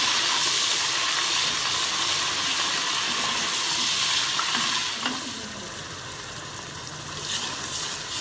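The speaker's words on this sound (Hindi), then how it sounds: "प्याज हमारे सॉफ्ट हो गए हैं और लहसुन अदरक का पेस्ट भी फ्राई हो गया है" Browned onions and garlic-ginger paste fry over a full flame for rajma, with a dense, continuous sizzle and occasional stirring scrapes that soften into a quieter hiss partway through.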